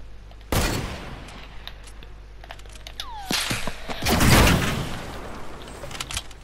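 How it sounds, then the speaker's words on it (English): Heavy sniper rifle shots in Fortnite: a few sharp, loud cracks with ringing tails, one near the start and a heavier burst later, separated by quieter game ambience with no talking. "it's a heavy sniper"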